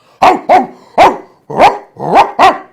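A dog barks six times, loud and close, in sharp evenly spaced bursts with brief gaps between them.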